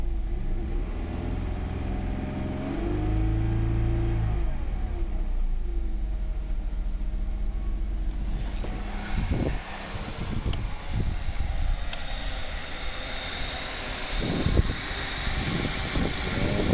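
An engine idling at just over a thousand RPM, a steady low droning hum with harmonic tones that shifts pitch briefly before turning rougher and noisier with intermittent thumps toward the end.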